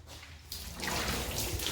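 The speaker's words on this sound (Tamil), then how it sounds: "இப்போ நான் தண்ணி ஊற்றுறேன்" Water poured onto the outer wall of a budget house in Coimbatore, a soft splashing trickle that starts faintly and swells into a steady wash against the surface, low in level with no talking.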